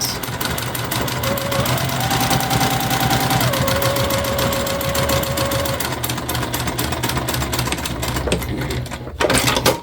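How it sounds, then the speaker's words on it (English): A sewing machine stitches quilting fabric for a beginner pouch, running in a fast continuous mechanical whir with a brief back-stitch pause and a clunk near the end. No one speaks. "we're just going to grab a line and stitch right down. I do back stitch at the beginning and the end."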